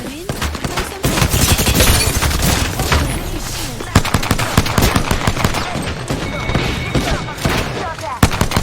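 Apex Legends gunfire cracks in rapid bursts of pistol and automatic shots, loud and close, mixed with game effects and brief character voice lines.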